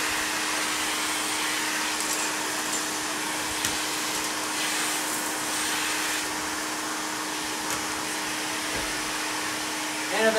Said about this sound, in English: I switched to hard surface from the carpet.